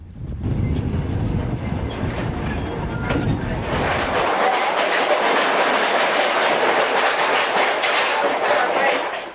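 A passenger train on a peace journey toward Beijing rolls along its rails with a loud, continuous rumble and rushing wind-like roar that brightens partway through, close by and steady throughout.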